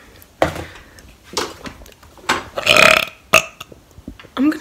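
A person burps several times in a row, loud and close, each belch a short rough burst with brief gaps between, the longest near the middle.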